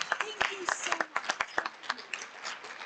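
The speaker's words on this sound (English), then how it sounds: "Let's have one more big round of applause." Audience at an investment pitch event gives a round of applause, a short burst of distinct, irregular claps from a modest crowd with talk mixed in.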